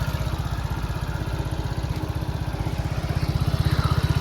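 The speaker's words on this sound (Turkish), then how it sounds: "Çalışması motoru bu şekilde." A Mondial Turismo 50i scooter engine runs close by at a steady idle, a fast even putter that carries on without a break.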